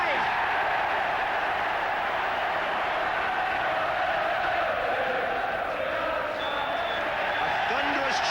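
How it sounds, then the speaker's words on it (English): A huge football crowd roars for Liverpool after a goal in a championship-winning performance, a loud, sustained wall of cheering that fills the whole stretch without a break. "A thunderous cheer for another championship performance from Liverpool"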